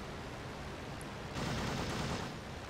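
Aircraft machine guns fire in Rise of Flight, a World War I flight-sim dogfight, as a sustained rattling burst that swells partway through over steady engine drone, moderately distant.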